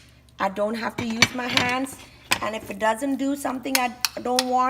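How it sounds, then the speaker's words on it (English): A potato masher squashes avocados for guacamole in a bowl, giving repeated soft clanks and scrapes against the bowl beneath steady close-up talk. "I use a potato masher and I think that does the trick for me"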